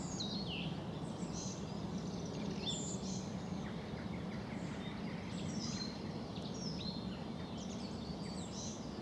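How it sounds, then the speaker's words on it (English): A song thrush sings in February countryside on a Roe Green circular walk, repeated bright, varied phrases over a steady low rumble of background noise, moderately distant. "there's that lovely song thrush"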